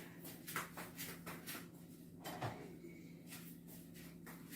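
A spoon and kitchen utensils being handled while mixing a chocolate and cornmeal cake batter, making quiet clinks, taps and scrapes in short bursts against a low hum, with no talking.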